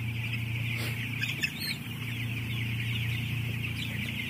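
Broiler chickens in a closed poultry house cluck steadily over a constant low ventilation-fan hum, a dense flock heard close and continuous, with a few sharper calls standing out briefly.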